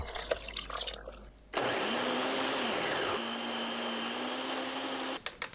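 A blender whirs loudly and steadily for several seconds after a brief start, grinding boiled jujubes with their cooking water, pine nuts, cooked rice and water, its pitch shifting slightly as the contents grind, then it stops.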